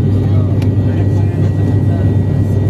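Steady, loud low drone of an airplane cabin in flight, a continuous broadband roar with no breaks for nearly three seconds.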